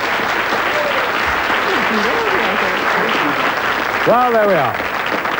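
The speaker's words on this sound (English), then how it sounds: "give them a big round of applause" Studio audience applause on a TV game show, a dense steady roar of clapping that holds throughout while a host speaks over it.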